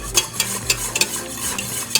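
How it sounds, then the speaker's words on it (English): Food gets stirred in a cooking pot, with a soft scraping swirl and sharp clinks of the spoon against the side at an irregular rhythm, close up with no talking. "All right, keep it stirred."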